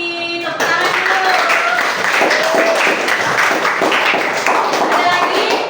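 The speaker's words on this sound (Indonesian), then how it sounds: "Tepuk tangan dulu." A classroom of students claps together, dense and loud from start to finish, with a few voices mixed into the applause.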